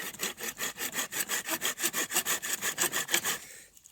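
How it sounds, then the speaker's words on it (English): A hand saw cuts through a piece of split wood outdoors. About seventeen steady, rhythmic back-and-forth strokes rasp up close, with no other sound, then stop just before the end. "I'm cutting it off from this piece of wood"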